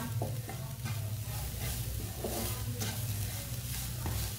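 Spices with turmeric cook on a low flame in a pan, giving a steady soft sizzle with repeated scraping stirs, moderately close and free of talk.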